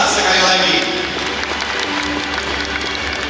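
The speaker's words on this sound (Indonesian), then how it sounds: "Boleh berikan tepuk tangan yang luar biasa sekali lagi." Steady applause from a seated audience at a Cooperative Day reception in Kediri Regency, a dense, even patter of many hands that starts strongest and holds at a constant level.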